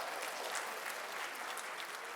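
An audience at a literary festival claps continuously, a dense, even wash of applause at moderate distance that holds steady without breaks.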